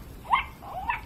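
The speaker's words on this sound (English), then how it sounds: "When anything goes past her, like my head, she'll bark and growl." A Zoomer Zuppies robotic toy puppy barks in guard mode, giving two short, sharp yips close by with a quiet gap between them.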